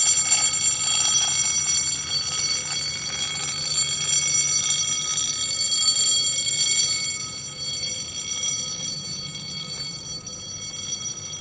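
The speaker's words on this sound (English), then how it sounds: "The only concert we're getting out here is the sound of a fire alarm bell." A fire alarm bell rings continuously outdoors during an art walk in Kansas City, a steady metallic clangor with no pauses, fairly loud and slightly distant.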